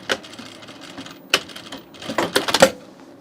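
A home sewing machine stitching a small L shape into a shirt runs in short, uneven stop-start bursts of rapid mechanical clatter, close and moderately loud.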